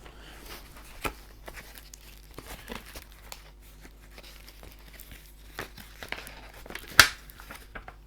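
Paper tearing open a packing envelope with a package inside during an unboxing of a James Horner and Maurice Jarre soundtrack CD collection: quiet crinkling and rustling throughout, with a few sharp rips near the one-second mark and a louder tear near the seventh second.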